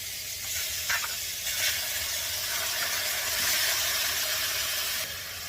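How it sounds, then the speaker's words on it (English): Wild caught shrimp sautéing in a hot skillet, giving a continuous loud sizzle and hiss that swells slightly midway, with no voices over it. "So we're really just kind of sauteing this shrimp up."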